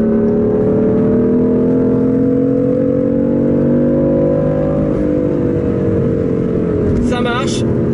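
A BMW M3 engine pulls hard under acceleration while driving, a loud, steady rising drone with strong harmonics that briefly dips and climbs again, with a voice talking over it.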